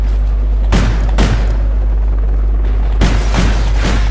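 Gunfire in the first-person shooter Call of Duty Ghosts, with akimbo .44 revolvers fitted with ACOG scopes: a few loud, sharp shots in two clusters over a steady low game rumble, no voices.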